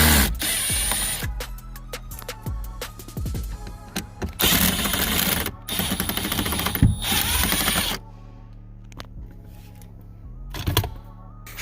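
Phillips screws come out of the dash around a 2012–2015 Chevy Captiva Sport radio, giving close clicks, ratcheting scrapes and small metallic rattles in irregular bursts, with a quieter stretch near the end.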